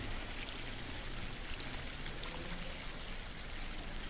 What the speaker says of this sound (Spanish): Y habría que parar el agua, ¿no? Que se va a desbordar